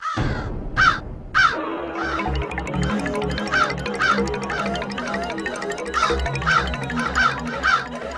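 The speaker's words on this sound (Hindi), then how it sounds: "सुनने में ये कौवे की आम सी काव काव लग रही है" A crow caws loudly and repeatedly nearby, harsh calls spaced irregularly over a steady low droning background, with some calls stacking closely together.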